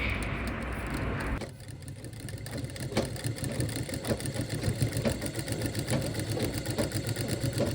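A sewing machine stitches blouse cloth for a prince cut blouse, its motor whirring continuously up close with a rapid, even mechanical rattle that shifts slightly in tone after the first second or so.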